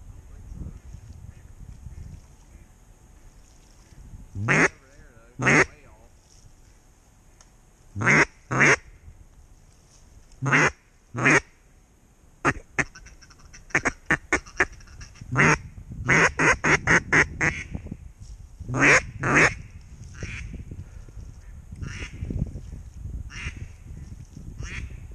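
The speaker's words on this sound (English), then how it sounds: "Was that the two mallards" Mallard ducks quack in loud bursts over about 25 seconds during a duck hunt before a snowstorm, with steady outdoor background noise between the calls.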